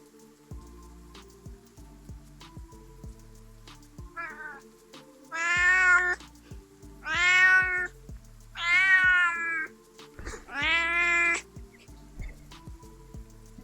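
A loud pet cat named Binks meows four times in drawn-out, spaced calls over a soft patter of rain and faint ticking, with no talking.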